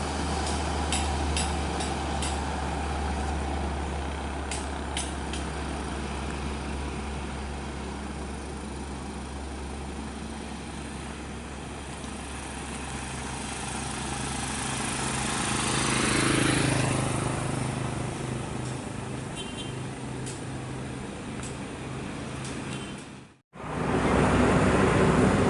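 An intercity bus rolls past on the Sumatra highway near Pekanbaru, its engine and tire roar swelling to a peak partway through before fading, over a steady distant traffic drone.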